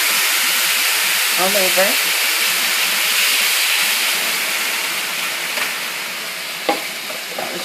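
Broth is poured slowly into a hot pan and sets off a loud, continuous sizzle and steamy hiss that eases off gradually, with a brief spoken phrase partway through.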